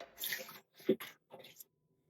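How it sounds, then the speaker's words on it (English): A cup of water poured into a blender for a rice recipe, heard as a few short splashing gushes separated by brief pauses, close and fairly quiet, with no talk. "Cup of water."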